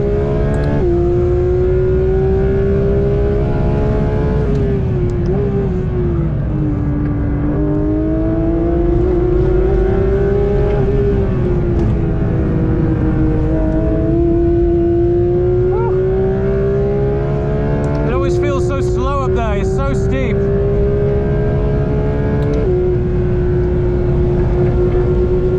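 A Porsche GT3 RS is driven hard on the Nürburgring through the slow, tight Versiphon left-hander with trail braking. Its loud, continuous engine note falls and climbs with the gears, and a brief high squeal or chatter comes late on.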